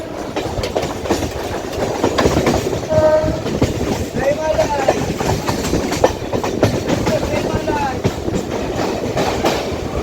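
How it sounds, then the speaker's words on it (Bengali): A Sealdah-Lakshmikantapur local train running near Ballygunge Junction in Kolkata, a loud continuous rumble and rattle of wheels on rails with clickety-clack beats and squealing tones, heard from inside the carriage. "ট্রেন এখন আমাদের চলে এসেছে বালিগঞ্জ জংশনে।"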